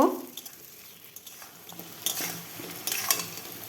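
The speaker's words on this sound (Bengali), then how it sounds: "আলুটা দিয়েও কিছুক্ষণ ভেজে নেব" Cut potatoes fry with browned onion in a pan while a spoon stirs and scrapes, giving soft sizzling under intermittent clinks and scrapes, close and moderately quiet.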